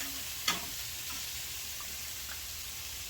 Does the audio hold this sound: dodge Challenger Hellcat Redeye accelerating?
no